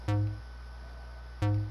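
Two deep, plucked bass notes from Fortnite Creative note blocks sound a little over a second apart, each with a quick bright attack and a short, booming decay.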